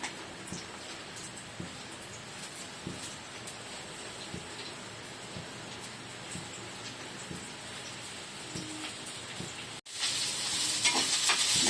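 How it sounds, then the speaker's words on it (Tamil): Chopped onions fry in heated sesame oil for an onion chutney, giving a soft, steady sizzle with light stirring clicks. A brighter, louder burst of sizzling comes near the end. "எண்ணெய் கொஞ்சம் காஞ்சதும் கட் பண்ணி வச்சுக்கிற வெங்காயத்தை இதில் நாம சேர்த்துருவோம்."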